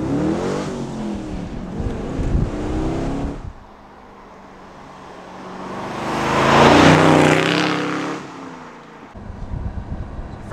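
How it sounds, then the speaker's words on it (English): A Gardner Douglas MK4 Cobra replica with an LS3 V8 revs loudly, drops to a quiet lull, then swells into a strong, rising acceleration roar before easing off and picking up again. "We'll give her a little bit of acceleration,"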